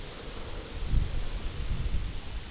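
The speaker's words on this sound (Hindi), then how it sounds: "बहुत तेज़ हवा चल रही है।" Strong wind gusting along an island shore at extreme high tide in the Andaman Islands, a steady low roar buffeting the microphone with heavier surges, no voices.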